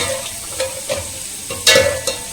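Whole garam masala frying in hot oil in a pan for parotta kurma, with a soft sizzle under repeated close spoon scrapes and taps against the pan, about half a dozen stirring strokes in quick succession.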